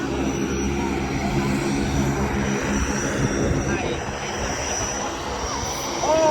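A propeller airplane that has just landed on a safari airstrip in Kenya keeps up a loud, continuous engine drone and whirring hum close by, with voices faintly mixed in.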